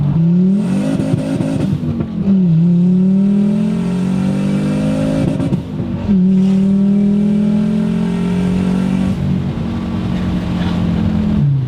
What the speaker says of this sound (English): the 5-cylinder makes this noise that's like a hybrid between a Viper, a Lambo